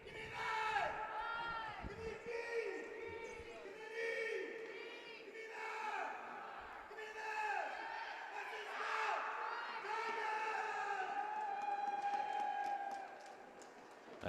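A crowd cheers loudly before the first period of a girls' high school hockey game between Windham and Portland, with sustained yelling, whoops and high shouts that swell and hold across the rink.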